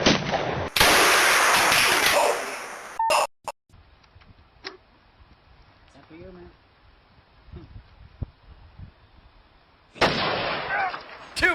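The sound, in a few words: 500 Magnum revolver gunshot, 400 grain platinum tip bullet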